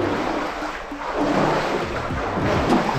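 Feet wading through deep, very cold water inside Robber's Cave near Dehradun, giving steady close sloshing and splashing with rushing water noise throughout.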